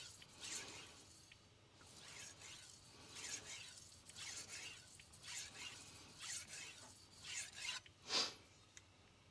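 A Meglio Managacut Kiritsuke knife is drawn along a sharpening stone in full strokes: faint, rhythmic rasping swipes come about once a second, quiet and close, with a sharper scrape near the end.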